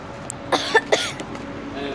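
A person coughs a few times in quick succession near a burning apartment complex, close and fairly loud against a steady outdoor background.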